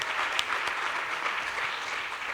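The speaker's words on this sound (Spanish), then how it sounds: "Por favor, un aplauso para Alicia." Audience applause at a panel discussion on housing in Europe: a dense, steady wash of many hands clapping at close range, holding an even level for the whole stretch with no voices over it.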